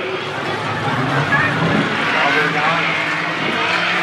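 Race cars roar around the Shawano Speedway dirt track, a loud continuous engine drone with passing surges, heard under an announcer's commentary.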